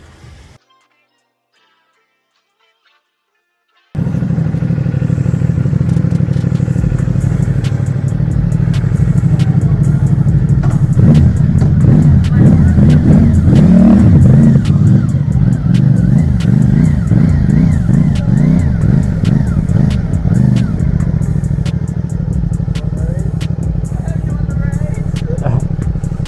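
A CF Moto 450 motorcycle rides and revs after a brief quiet start, its mid-pitched engine droning loudly and rising and falling with throttle blips, with wind and occasional talk mixed in.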